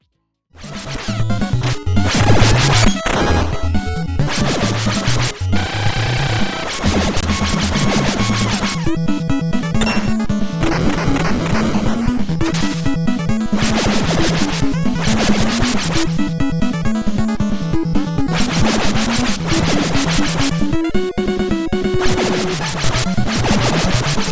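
Teenage Mutant Ninja Turtles: The Manhattan Project video game, turtles smashing Foot soldiers in the sewers: a loud, continuous barrage of hits, crashes and clattering effects over driving game music, with no talking.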